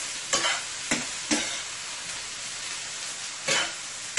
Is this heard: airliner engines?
no